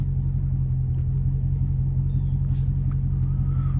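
Deep, steady exhaust rumble from a straight-piped Dodge Challenger Hellcat Redeye idling close by, a constant low drone with no revving and no speech.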